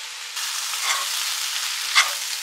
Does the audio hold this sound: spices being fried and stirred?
yes